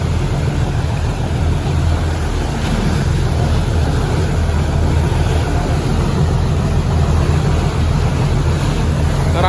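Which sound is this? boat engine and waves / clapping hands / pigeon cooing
boat engine and waves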